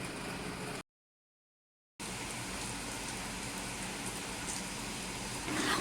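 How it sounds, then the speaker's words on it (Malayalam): Heavy rain makes a dense, steady hiss that drops out completely for about a second before returning, then swells slightly louder at the end. "മഴ നല്ല തകൃതിയായിട്ട് പെയ്യുന്നുണ്ട്"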